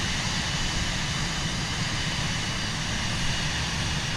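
A small airplane's engine drones steadily and loudly throughout, a constant broadband roar heard from inside the cabin with no pauses and no talk.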